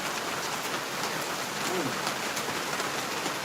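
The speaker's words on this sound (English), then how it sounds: "Raining pretty nice, isn't it?" Steady rain hisses across the whole stretch, a dense wash of drops pattering on a surface, with no pauses or shifts in intensity.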